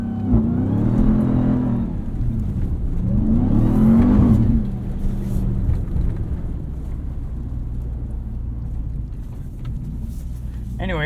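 A 2021 Ram 1500 TRX pickup's engine revving hard off-road on sand dunes, two loud rising and falling surges followed by a lower steady rumble, with someone talking over it.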